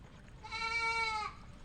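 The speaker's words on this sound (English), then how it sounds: "Hello, baby goat." A single loud, wavering bleat comes from a young goat close by on a lakeside walking path near temples, standing alone against faint background hiss.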